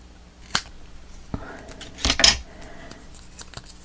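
Scissors snip through paper for a mini album, giving a few sharp separate cuts, with a quick double snip near the end, close up in a quiet room.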